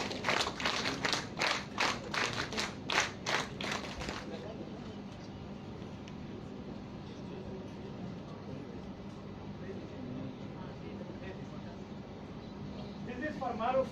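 Audience clapping at a Scout and Guide fellowship ceremony, a burst of rhythmic claps for the first few seconds that quickly dies away into quiet room tone.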